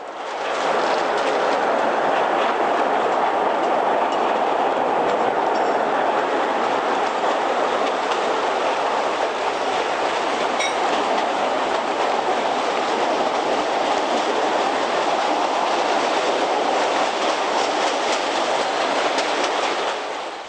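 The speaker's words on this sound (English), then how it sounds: "the train travels along the seashore" A train rolls steadily along the rails beside the seashore, a loud continuous rumble with faint rhythmic clatter from the wheels, sustained without pause.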